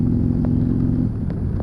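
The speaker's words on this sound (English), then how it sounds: "A Harley Davidson Road King." Harley-Davidson Road King motorcycle engine idling with a deep, steady low rumble at close range, with a few faint light knocks over it and no talk.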